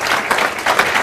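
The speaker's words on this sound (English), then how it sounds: "Frank deserves a big round of applause for having endured today and put on a wonderful program." Audience applause for Frank Rijsberman at the close of a day-long program, a dense wash of clapping from many hands, steady and fairly loud throughout the brief moment with no voices over it.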